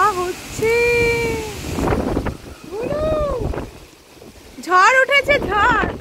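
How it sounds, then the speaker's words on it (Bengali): Strong wind buffets a house rooftop near a mango tree, rumbling and roaring against the microphone in gusts, with whistle-like tones and voices heard over it. "কি হাওয়া হচ্ছে"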